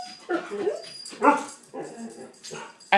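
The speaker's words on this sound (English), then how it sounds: "excuse my dog, she's barking at the neighbors." A dog barks several times in short, spaced bursts with some whiny yips between, heard at moderate distance with no one talking.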